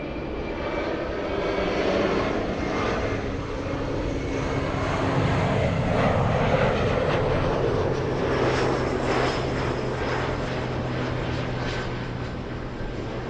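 A large airliner comes in to land at LAX in Los Angeles, its engines making a loud, steady roar that builds slightly toward the middle and holds throughout, with no talk.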